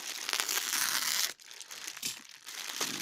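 Close, steady crinkling of a plastic parcel bag for over a second, then softer intermittent rustles as it is handled.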